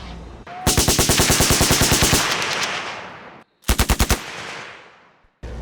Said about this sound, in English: What's really cool about Virginia International Raceway, they have a gun range here